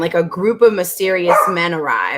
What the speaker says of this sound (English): Sorry, that's my dog barking.